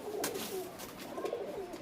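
Kalshira pigeons in a loft give low, soft cooing tones, close and steady, with a brief rustle near the start.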